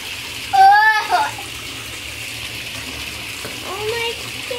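Water pours into a bathtub in short bursts, a loud splashing gush near the start and a softer pour later, with someone speaking and exclaiming over it.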